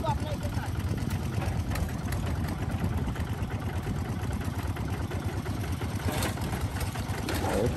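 Japanese walk-behind tractors (motoblocks) work in Vietnam as a small engine idles and chugs steadily nearby, a continuous mid-pitched drone with people talking over it.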